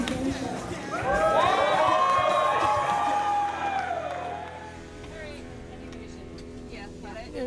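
A crowd at an outdoor benefit show for a skatepark cheers and whoops loudly for a few seconds, then the roar fades into lighter scattered voices and background chatter.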